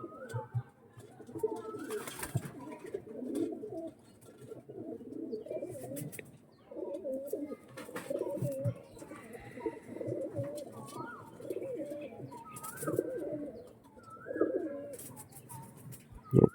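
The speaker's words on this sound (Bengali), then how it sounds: "দুটোই ওড়ানো পায়রা" Andhra pigeons, a flying breed, coo steadily in low, throaty, repeating phrases close by, over about sixteen seconds, with occasional faint chirps and rustling in the background.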